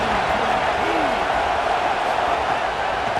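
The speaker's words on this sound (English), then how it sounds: "this crowd trying to help keep them there" Stadium crowd noise from an EA Sports College Football video game, a steady, dense roar of a large crowd that stays loud and unbroken throughout, with no distinct cheers or claps standing out.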